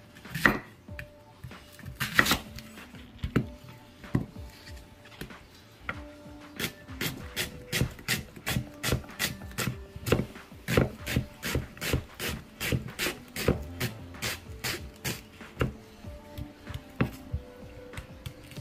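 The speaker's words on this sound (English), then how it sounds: "I'm gonna just start chopping up my onions" A knife chops onions steadily on a cutting board, a quick, regular run of crisp close thuds after a few scattered cuts.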